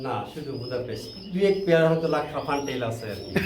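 Pigeons, including Budapest breed birds, cooing in a loft of around eighty to ninety pairs, soft throaty coos and chirps running beneath steady close conversation.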